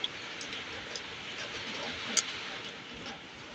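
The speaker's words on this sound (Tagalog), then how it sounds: "Ang lakas ng ulan." Steady, dense hiss of heavy rain with wind during a storm, pouring down, fairly faint and constant throughout, with a couple of small ticks.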